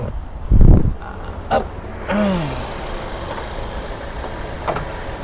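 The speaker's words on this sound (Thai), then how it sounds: "นี่ครับห้องเครื่องอันนี้คือเสียงเครื่องยนต์ที่สตาร์ทเครื่องแล้วนะครับ" A 2018 Mazda 2 Skyactiv 1.3 engine idles with a steady low rumble close by, and a few brief knocks and a short whine rise above it.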